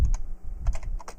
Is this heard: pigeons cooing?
no